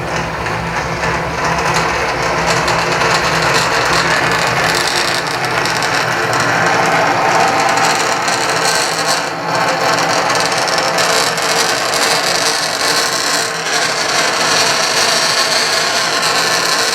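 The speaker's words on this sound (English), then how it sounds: "This ductile iron is not too bad to drill." A 1.25-inch drill bores into soft ductile iron, a loud, steady grinding churn of machine and cutting that holds continuously at close range with no talk.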